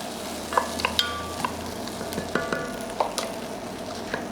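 Onions frying in a pan as the base for a seafood bisque give a steady close sizzle, with a few sharp clicks of a utensil against the pan and no voices.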